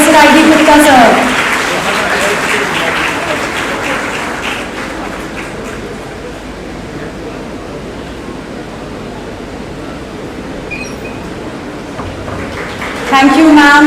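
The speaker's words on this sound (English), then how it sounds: "Huge round of applause for Professor I.D. Gupta, sir." Audience applause welcoming Professor I.D. Gupta at a sustainability and social entrepreneurship event in India, a broad, steady wash of clapping that fills the room for over ten seconds, with a voice speaking briefly at the start and end.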